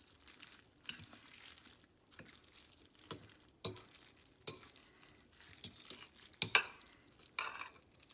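Noodles being tossed with soy sauce and chopped onions in a bowl for scallion oil noodles: soft, irregular stirring and scraping with scattered sharp clinks of utensil on bowl, fairly close, no talking.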